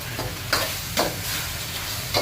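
Pork stir-frying with shrimp paste in a hot pan gives a steady loud sizzle, broken by a few sharp scraping stirs of the utensil against the pan.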